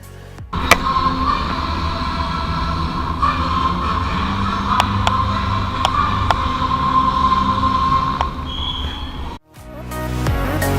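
Steady rumbling of an overnight train in Thailand with a continuous hum and occasional clicks and clanks from the rails, ending in an abrupt shift.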